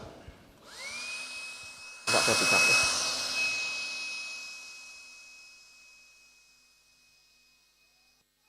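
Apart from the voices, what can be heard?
electric air blower running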